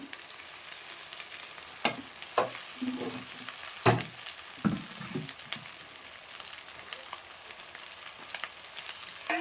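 Ground dried chilli, cumin and ginger paste frying in a pan: steady soft sizzling hiss throughout, punctuated by a few louder spatters and stirring scrapes, close and fairly quiet.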